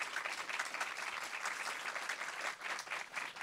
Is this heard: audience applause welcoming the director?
yes